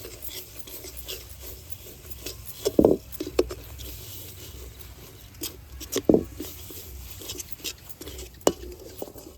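Toasted sesame seeds are stirred in a pan while jaggery sweets are being made, giving soft rasping scrapes and light patter, with a couple of louder knocks of the spoon against the pan.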